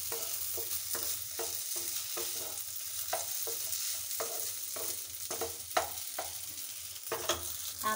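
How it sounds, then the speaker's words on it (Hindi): A spoon stirs a potato chaat snack as it fries in a pan, scraping and tapping in a steady rhythm over a constant soft sizzle, close to the listener and with no voices. "इसको भी इसी साथ में भूनेंगे"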